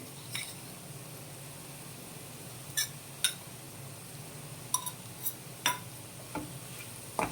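Bitter gourd fry with garlicky coconut chili powder is stirred in a pan under a faint background sizzle, with a spoon scraping and tapping against the pan in sparse, sharp clicks.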